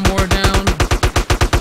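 Steady burst of automatic AK rifle fire in GTA, about a dozen evenly spaced loud shots in quick succession, close and continuous.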